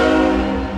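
A train sounds a loud, sustained horn blast near a public auto auction lot, the rich layered tone holding steady and close before easing slightly at the end.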